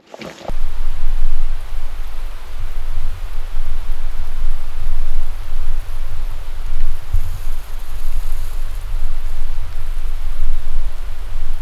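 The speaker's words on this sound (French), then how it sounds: "Ça y est, la pluie arrive." Rain beginning to fall during a hike and bivouac in the Haut Verdon near the Lignin lakes, a steady loud hiss of drops that starts abruptly and holds for several seconds, close and continuous, with no voices.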